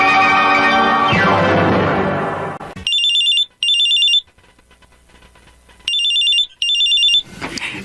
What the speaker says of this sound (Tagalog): kanina pa nagre-ring yung cellphone mo.